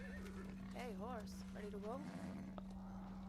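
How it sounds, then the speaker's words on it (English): A horse in the Far Cry 6 video game, the Far Cry 5 horse, gives a wavering whinny in two rising and falling bursts over a steady electrical hum, followed by a faint click. "This is the Far Cry 5 horse."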